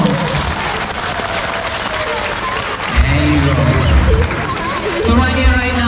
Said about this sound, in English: He wants a bigger round of applause.